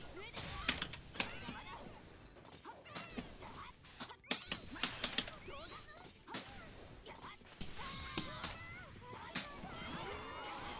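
Cats meow repeatedly in the Nitroplus Blasterz fighting game, with several short, sharp cries scattered among hits and game effects while players talk over the action.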